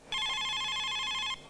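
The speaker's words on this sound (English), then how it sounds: "That's the phone." A telephone rings once in a single sustained electronic trill lasting just over a second, loud and close, with quiet room sound before and after.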